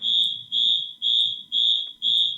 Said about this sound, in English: Well, you hit an alarm.